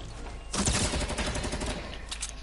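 Dense rapid gunfire bursts from a video game match on a rooftop map, loud and continuous after a brief quieter start, like a fusillade hitting the player.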